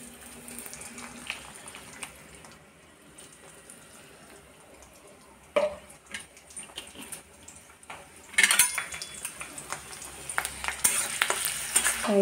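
Garlic, onion and chili frying in oil in a wok, a soft low sizzle at first with spatula stirs and utensil clinks, growing louder and brighter in the second half as the frying intensifies.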